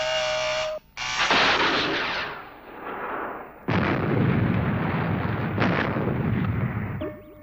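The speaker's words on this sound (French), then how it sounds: "L'intercepteur a explosé avant d'atteindre la cible." Interceptor rocket exploding in a TV sci-fi show, a loud roaring blast that cuts out, swells again, then gives way to a second sustained rumbling explosion with crackling bursts, ending with a high electronic tone.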